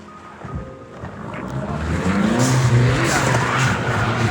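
A Chevrolet Camaro SS doing donuts in the snow sounds nearby and loud, its V8 engine revving up into a sustained, rising roar as the tires spin and slide.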